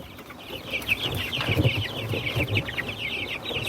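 Young chicks in a brooder on a poultry farm peep in a dense, continuous chorus of high chirps, with soft low shuffling beneath; no one speaks.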